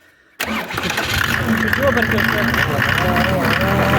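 A petrol motor pump for garden watering jolts into life after a quiet moment and settles into a steady, loud, close chugging idle, with a person talking over the running engine.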